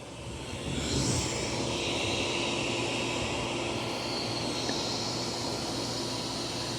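A Bissell FlexClean vacuum cleaner runs with a steady, fairly quiet whooshing hum that rises at the start and then holds even and close.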